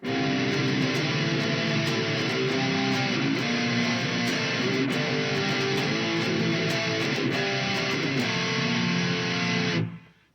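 Distorted electric guitar strumming the rhythm part of a song, a steady chugging pattern of barred chords with regular accented strokes, loud and continuous for about ten seconds before stopping abruptly.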